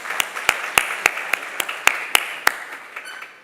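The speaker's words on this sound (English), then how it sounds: "let's give her another round of applause" An audience at a SANParks Vision 2040 indaba claps, with sharp distinct hand claps in a fairly steady rhythm over a soft wash of applause that fades toward the end.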